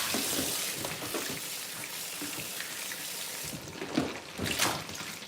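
Tap water runs steadily while tomatoes are rinsed under it, a continuous splashing trickle with a couple of louder splashes near the end, close by and with no talking.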